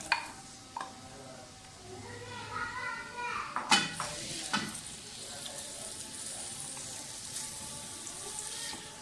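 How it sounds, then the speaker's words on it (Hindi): Onions fry in hot oil in a pan for an aloo mongray curry, a soft continuous sizzle with sharp clanks and stirring knocks near the middle, while a voice talks quietly at times. "प्याज फ्राई कर लें अच्छी तरह से"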